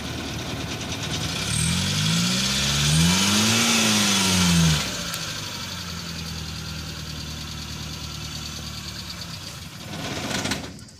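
A car engine runs while the car climbs a steep slope beside a 20-foot ditch. It rises and falls in revs for several seconds, then drops to a rough, uneven idle as the engine falters and nearly stalls, with a brief surge near the end.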